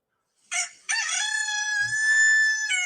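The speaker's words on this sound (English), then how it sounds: "That's Mr. Rooster" A rooster crows once, a short opening note followed by a long, loud, sustained cock-a-doodle-doo close by, with no voices around it.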